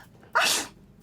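A single sharp sneeze from a character in the video game Murder in Alps, sudden and fairly close, lasting under half a second before fading into quiet.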